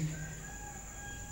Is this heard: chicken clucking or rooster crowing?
yes